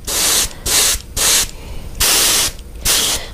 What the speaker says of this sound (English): I'm spraying base layers around 35 to 40 PSI